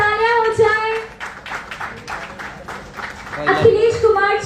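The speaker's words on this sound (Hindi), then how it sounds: "जोरदार तालियां हो जाए।" At a grand event show for a Bhojpuri film, a crowd applauds in a rough, sustained burst, with an announcer's amplified voice speaking before and after the clapping.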